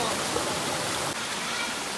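A flowing stream near a waterfall in a rural province rushes loudly and steadily, a close, unbroken wash of water with no pauses.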